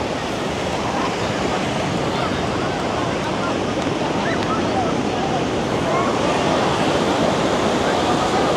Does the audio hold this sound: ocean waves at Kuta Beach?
yes